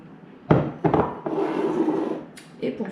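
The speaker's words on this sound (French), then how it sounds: "Je vais rajouter les cristaux de soude." Washing soda crystals tipped from a tablespoon into a container, giving a few hard clattering knocks and a brief granular pour, close and fairly loud.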